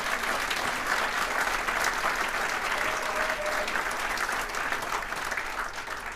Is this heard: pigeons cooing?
no